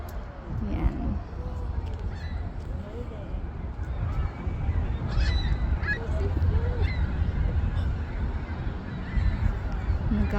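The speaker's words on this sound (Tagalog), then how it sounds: "Nagkakagulo yung mga ibon. Kasi dumilim talaga." A flock of birds in uproar, honking and squawking continuously as the sky darkens outdoors, with someone talking over the noisy, constant chorus.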